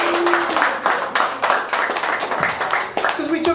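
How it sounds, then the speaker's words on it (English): A comedy club crowd in New Orleans claps in uneven bursts, a fairly loud patter of hands with rhythmic pulses, while voices call out and chatter over the clapping. "Give yourselves a round of applause."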